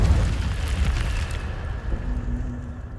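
The Incendio fire spell is cast in the Hogwarts Legacy video game, a deep fiery whoosh and burst that rumbles loudly at first, then fades into a low crackling tail.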